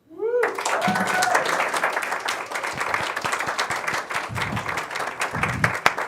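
Audience applause for a storyteller opening a live storytelling show, a dense sustained round of clapping from start to finish with a few vocal tones at the very start.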